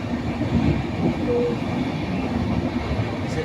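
Steady low rumble and rattle from inside a moving train carriage, a continuous rolling drone with faint wheel clatter.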